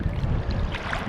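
Strong, rough ocean waves at a fishing spot churn and wash continuously at close range, with wind noise and no voices over the short stretch.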